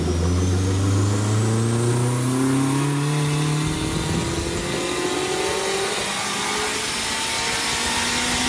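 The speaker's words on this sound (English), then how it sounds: "thrown the Corolla back on the dyno here at Knight Family Motorsport" A Toyota Corolla fitted with a K24 engine revs hard on a dyno in a motorsport workshop, a loud sustained roar whose pitch climbs steadily over several seconds before dropping into a rougher, gravelly drone.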